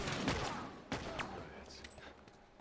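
Rifle fire in The Last of Us: Left Behind, a few sharp cracks spaced across a couple of seconds, heard faintly under game ambience.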